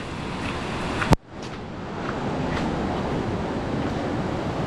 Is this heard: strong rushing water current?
yes